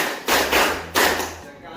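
A group claps in rhythm during an ice-breaking exercise at a teacher training session, giving two bursts of clapping about half a second apart, loud and close, with voices mixed in.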